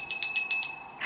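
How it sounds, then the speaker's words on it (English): A small bell inside a Christmas tree bauble dings repeatedly in a quick, bright jingling series, close and clear, with one last ring at the end. "Is it just me, or does that sound like the Polar Express bell?"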